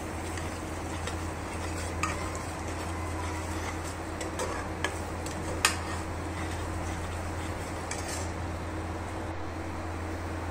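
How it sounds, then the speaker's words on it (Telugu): Onions stirred in hot oil with ginger garlic paste for a prawn curry, giving a steady close sizzle with occasional soft clicks and taps from the stirring utensil. "ఆనియన్స్ అంతా మిక్స్ అయ్యేలాగా కొంచెంసేపు తిప్పుతూ ఉండండి"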